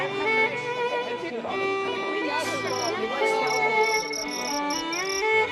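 Fighting crickets chirp in rapid, pulsing trills inside a popular tea house, sitting under music and talk that run throughout.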